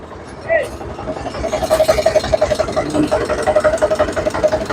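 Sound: tractor engine idling

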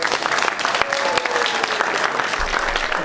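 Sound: audience applause at music cafe

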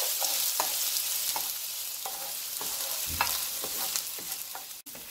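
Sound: onions frying and being stirred in hot oil in a pan

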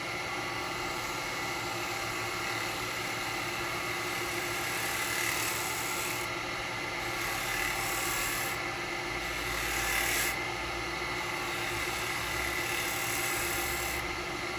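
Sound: woodturning gouge cutting wet eucalyptus on a lathe

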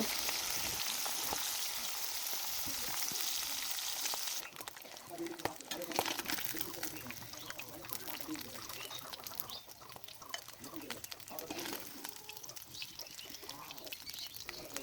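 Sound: pangas fish frying in oil

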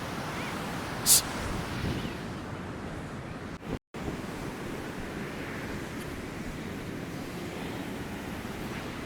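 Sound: waves breaking on a beach in Goa

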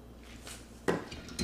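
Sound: lid being put on a crock pot

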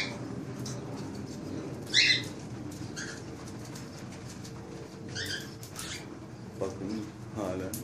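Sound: cockatiels squabbling over seeds in cage

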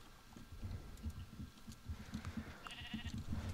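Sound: sheep bleating in the video game Minecraft

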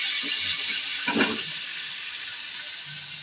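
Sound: water poured into frying spice paste for fish curry

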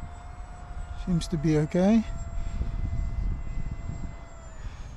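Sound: Eclipson Inferno model jet at full throttle

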